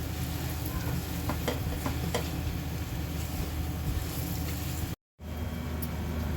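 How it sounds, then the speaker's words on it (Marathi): Semolina and banana roast together in a pan, giving a continuous dry sizzling and scraping as they are stirred, with a brief silent cut near the end. "रवा आणि केळं आपण छान एकजीव भाजून घेणार आहोत रवा हलका होईपर्यंत आपल्याला व्यवस्थित भाजून घ्यायचा आहे"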